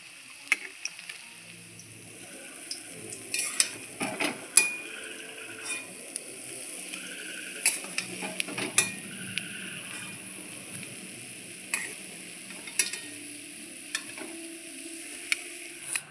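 Fish pakora frying in hot oil, a steady crackling sizzle with scattered sharper pops and light stirring clicks, close and moderately loud with no talking.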